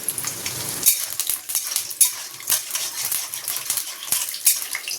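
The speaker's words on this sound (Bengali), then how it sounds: "বাদামগুলো ভেজে নেব" Peanuts frying in hot oil in a wok: a steady, bright sizzle with sharp clinks of a metal utensil against the pan, close and continuous.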